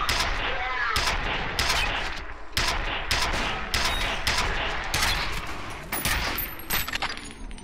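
Repeated bursts of gunfire in the first-person shooter FEAR, loud sharp volleys firing in quick succession over a steady battle din with no pauses, filling the whole stretch.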